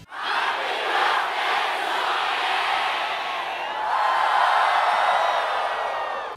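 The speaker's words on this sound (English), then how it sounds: "at the end of the credits, we get one last piece of fan service with a crowd yelling happy birthday to Sonic" A large crowd of Sonic fans, recorded at the Summer of Sonic and Sonic Boom conventions in 2011, yells happy birthday in unison, a loud, sustained roar of many voices with no pause.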